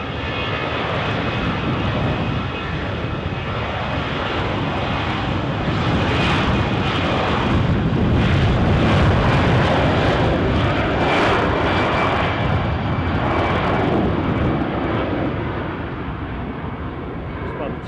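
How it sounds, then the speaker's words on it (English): Turkish Airlines jet on final approach to Edinburgh, a loud, sustained engine roar that swells in the middle and eases slightly toward the end, with a voice speaking over it. "Turkish are now well onto their final approach."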